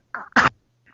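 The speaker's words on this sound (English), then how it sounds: "I had a bit of a coughing fit, almost" A single short cough, preceded by a brief throat sound, then quiet.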